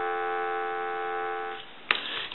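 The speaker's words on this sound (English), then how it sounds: "I'm going to give you some dial tone." A steady telephone dial tone on a French-style rotary telephone under repair holds evenly for about a second and a half, then cuts off, followed by two brief clicks.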